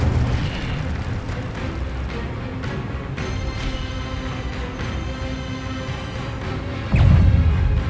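Incendio fire spell cast in Hogwarts Legacy: a sustained roaring, crackling rush of flame with a deep rumbling body, swelling into a louder burst near the end, no talk.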